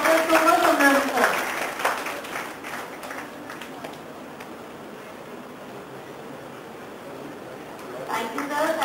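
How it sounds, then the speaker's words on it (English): Audience applause for a speaker at a conference session, a burst of clapping at the start that fades into quiet room tone, then picks up again briefly near the end. "Please have a huge round of applause for Dr. Thomas Sundaram sir."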